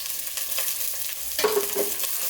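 Shallots sautéing in oil in a pan for mutton kulambu, a soft continuous sizzle with a few light stirring scrapes and clinks, fairly quiet and without speech.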